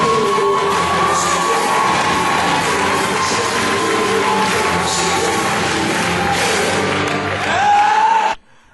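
Wedding guests cheer and clap in a loud, dense crowd roar that holds for about eight seconds with shouts and whoops, then cuts off abruptly.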